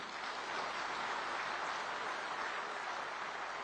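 Dense, steady audience applause fills a conference hall, a continuous wash of many hands clapping at even loudness throughout with no voices over it.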